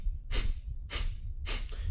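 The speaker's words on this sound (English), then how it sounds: "Breath of Fire is using your nostrils. You breathe in, you let the breath out about halfway," Three forceful nasal exhales of a Breath of Fire breathing exercise, evenly spaced and close, each a short sharp rush of air through the nostrils with quiet low rumble between them.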